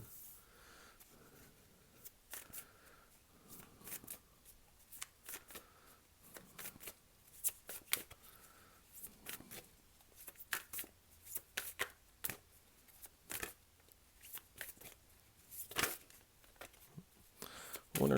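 A deck of tarot cards is shuffled close up in repeated crisp riffles and snaps, with short pauses between bursts, while a voice talks quietly at intervals.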